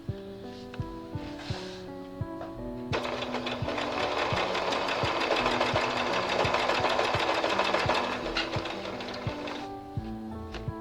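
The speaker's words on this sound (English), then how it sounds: "So you stitch from valley to valley, and that should be about 1/4 of an inch in." A sewing machine stitches bias binding strips in a fast, steady run of several seconds, with quiet mechanical ticking before and after the burst.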